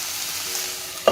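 Ladies finger (okra) frying in a pan, a short steady sizzle heard close up, ending in a brief clink of utensil against pan.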